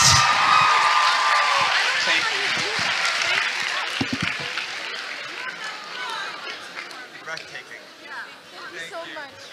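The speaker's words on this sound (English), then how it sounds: "Scholars, one more huge round of applause for the girl in 14G." A large audience at a scholars' competition event in Seoul breaks into loud applause and cheering with whoops, strongest at the start and then thinning into scattered claps and chatter.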